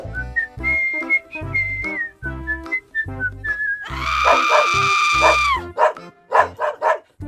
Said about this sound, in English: this granny is being chased by angry dogs, she needs help